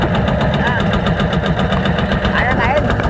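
A boat engine runs steadily at close range with a constant, dense mechanical drone, and a voice talks briefly over it.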